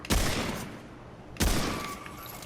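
Two hunting rifle shots in the shooter Remnant II, each a sharp loud crack followed by a decaying echo, spaced about a second and a quarter apart with nothing else between them.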